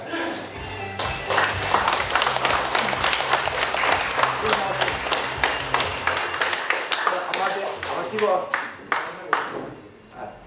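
An audience at a book launch for a novel claps loudly and steadily for an introduced guest, the applause thinning into a few scattered claps at the end, with speech over it.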